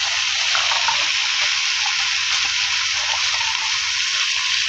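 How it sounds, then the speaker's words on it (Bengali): Water pours steadily into a pan of ground ginger, garlic and cumin paste for a fish curry, a continuous hissing gush with faint sizzling beneath, close and fairly loud, with no talk over it. "জল দেবো, কষিয়ে নিতে হবে।"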